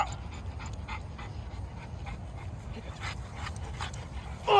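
An XL bully dog pants rapidly and steadily nearby, with a few faint whimpers mixed into the breathing.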